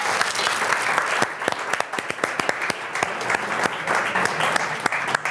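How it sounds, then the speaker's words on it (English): A live audience applauds a chef during a cooking demonstration, a dense, steady round of clapping from a crowd that holds for several seconds at close range. "I would like to applaud this guy."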